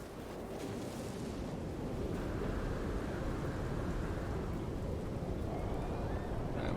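Rain and thunder from a storm in the No Man's Sky game, heard as a dense, continuous wash of hissing rain with deep rumbling underneath. The sound stays loud and steady throughout, with no voices.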